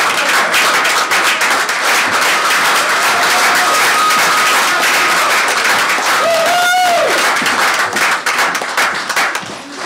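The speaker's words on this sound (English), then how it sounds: "let's give them a round of applause" Loud, sustained applause and clapping from an audience at a board of education meeting, filling nearly ten seconds, with crowd noise and a brief whistle-like tone partway through.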